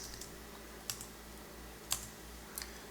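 Keys clack on a computer keyboard while a formula is entered in an Excel spreadsheet, a few sparse, faint taps spaced apart against quiet background hiss.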